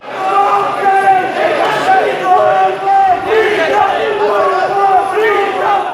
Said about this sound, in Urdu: جوش و جذبے سے نعرے لگائے